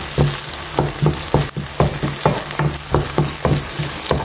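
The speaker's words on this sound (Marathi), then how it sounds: "आले लसूण पयलीं मातशें तेलान फ्राय करूनच घायलेले बरें" Ginger and garlic frying in hot oil give a steady close sizzle, with regular spatula stirs and scrapes roughly every half second throughout.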